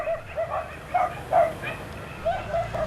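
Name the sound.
dogs barking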